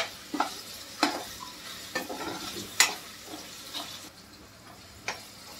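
A spoon stirs a potato and sago (sabudana) mixture in a pan, giving soft scraping strokes and a few sharper clicks against the metal at irregular intervals over a faint sizzle.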